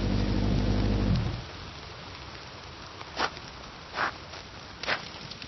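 A thunderstorm brings a loud low rumble of thunder that fades within the first second, followed by steady rain hiss and a few brief sharp crackles or drops.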